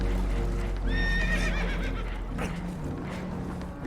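Horses in the video game Red Dead Redemption 2 whinny and neigh in agitation over a loud, rushing background din as water comes in, with a burst of clattering noise partway through.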